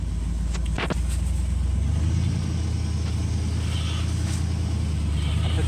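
A 1958 Chevrolet 3600 truck engine rumbles loudly and steadily up close as the truck pulls away, with a brief clatter near the start.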